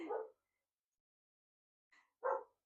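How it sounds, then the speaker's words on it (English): A dog barks twice, short and fairly faint, with about two seconds of quiet between the barks, indoors near a pottery studio setting; no talking. "Sorry for the barking."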